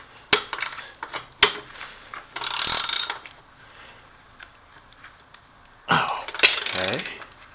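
A ratchet tightens bolts on the door of an oil-fired boiler, with sharp metallic clicks and short bursts of rapid ratcheting, heard close and alone.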